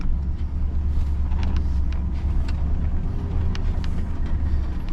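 An old parts truck idles and creeps along in gear around a yard, its engine giving a loud, steady low rumble with light rattles and no talking.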